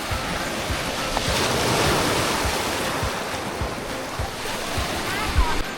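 Strong sea waves at Pha Daeng beach in Prachuap, Thailand, make a continuous loud wash of surf mixed with gusty wind buffeting the microphone.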